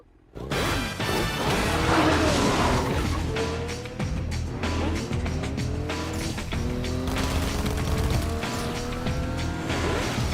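Motorbike engine in the video game Fortnite, a continuous loud revving whine with rising and falling pitch sweeps over ten seconds, mixed with crashes and other game effects.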